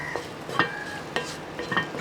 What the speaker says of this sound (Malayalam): പച്ചച്ചോവ മാറിയ ശേഷം എല്ലാം കൂടെ കൂട്ടി ഒന്ന് ഇളക്കി കൊടുക്കുക.